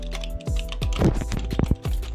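Typing on a computer keyboard at a home desk setup, a quick burst of clicky keystrokes heard up close under a steady low background hum.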